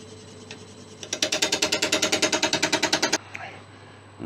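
A wood lathe rounds off a river bowl blank, a fast run of rhythmic chattering cuts lasting about two seconds, loud and close, between quieter stretches of workshop hum.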